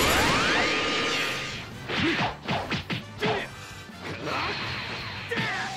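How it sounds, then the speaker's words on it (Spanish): Crystal-smashing action in Dragon Ball Xenoverse 2, opening with a rising whoosh, then a cluster of crashing, thwacking blows and a few later hits, loud and near over a steady game backdrop. "Vale, hay que romper los cristales"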